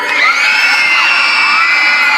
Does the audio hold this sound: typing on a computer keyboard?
no